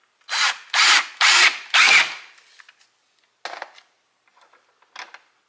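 A power drill drives screws while door hinges are being swapped, four loud whirring bursts in quick succession followed by a couple of shorter, fainter spins.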